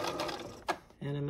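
A sewing machine stitching quilt binding gives a short whirring run that pauses briefly and then resumes as a steady mechanical hum, close by, with a speaking voice over it.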